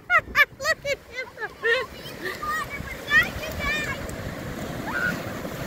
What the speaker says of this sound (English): Don't let the waves catch me!